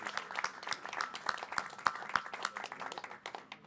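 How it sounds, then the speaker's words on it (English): An audience applauds at a pitch event, with a steady patter of many hands clapping at moderate distance and a few sharper individual claps standing out. "Give them a big round of applause."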